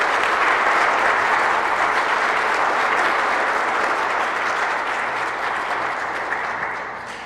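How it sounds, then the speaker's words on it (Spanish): A congregation applauding during an evening Catholic Mass, a loud sustained wash of many hands clapping in a large room that slowly fades toward the end. "Démosle un aplauso pues a Jesús"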